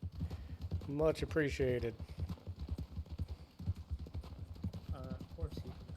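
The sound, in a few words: horse hooves clip-clopping in a video game (WildRP)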